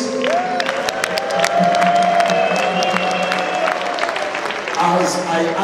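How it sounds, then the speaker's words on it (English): A church congregation at an annual general meeting claps in praise, scattered and sustained hand claps mixed with cheering, while a voice speaks and sustained tones hum underneath. "Shall we all stand up and give the Lord a clap of praise?"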